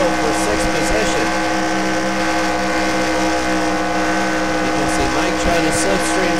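Race cars at full throttle in a battle for sixth position, one car slipstreaming another: a loud, continuous engine drone with a steady tonal whine that holds unbroken throughout.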